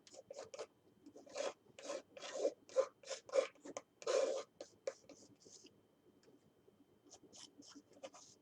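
A palette knife scrapes paint across a surface in a run of short, raspy strokes, close and fairly quiet, bunched in the first half before fading into sparse lighter scrapes.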